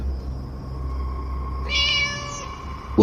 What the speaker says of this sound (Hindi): और तभी मेरे कानों में बिल्ली की आवाज आई।